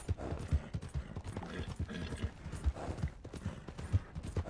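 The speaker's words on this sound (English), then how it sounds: "Our horse is running for a while." Horse galloping in Red Dead Redemption 2, its hooves thudding in a steady, quick clip-clop rhythm that stays close and fairly loud throughout, with no talk over it.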